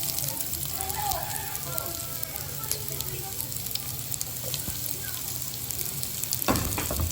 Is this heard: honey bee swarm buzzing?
no